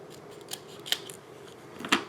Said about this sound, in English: I'm going to cut off the part that you can see.